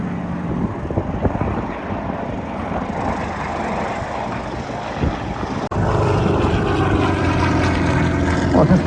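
A propeller aeroplane passes at the Headcorn airshow, its droning engine holding steady before jumping abruptly louder and fuller partway through, with no talk over it.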